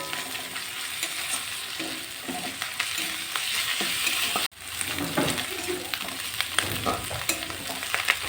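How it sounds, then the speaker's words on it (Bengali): Onions frying with ginger garlic paste, a dense steady sizzle with stirring scrapes, a brief cut midway before the crackling resumes, no speech. "পেঁয়াজটা কাঁচা গন্ধ যাওয়া পর্যন্ত আমি ভেজে নেব"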